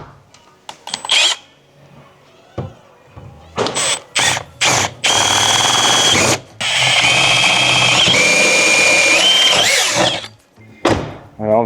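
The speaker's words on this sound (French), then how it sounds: "Maintenant, on va pouvoir percer avec une mèche de 9." A power drill with a 9 mm bit boring through the sheet-metal door of a Mercedes Sprinter van, loud close bursts of whining drilling separated by short gaps and thunks, then a long sustained run.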